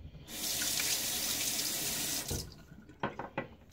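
Tap water runs steadily into a sink for rinsing during a wet shave, a close, even hiss that cuts off abruptly, followed by a few brief splashes and drips.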